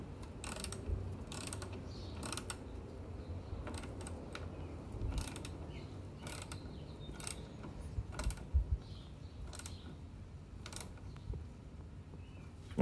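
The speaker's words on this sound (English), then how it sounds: "Just going to get my ratchet." A ratchet clicks in short bursts while tightening the terminal on a Chevy Bolt EV 12V battery, with repeated quiet ratcheting passes and an occasional clunk over a low background.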